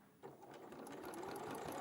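A sewing machine runs steadily, stitching a seam around the nose of a scrappy fox piece, a continuous close whirring hum that starts after a brief pause and holds even throughout, with no talk.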